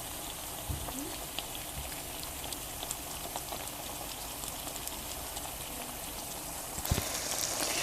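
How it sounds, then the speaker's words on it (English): Ingredients for Bajan breadfruit cou cou sauté in a pot, giving a steady, soft sizzle and bubbling hiss throughout, with a few faint clinks and a slight rise at the end. "I'm going to let that saute"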